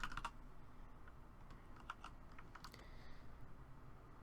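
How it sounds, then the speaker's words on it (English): Quiet clicking of a computer keyboard being typed on during a livestreamed league game, with soft scattered keystrokes over a steady low background hum and no voices. "I was typing on Twitch again"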